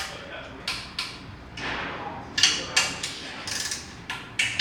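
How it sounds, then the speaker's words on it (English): Bolts on the front of the oil pan and front cover of a C6 Corvette are tightened during an oil pan swap, giving a run of sharp ratcheting clicks and metallic knocks in irregular bursts, close and fairly loud. "we can tighten the two front bolts to the pan or to the front cover"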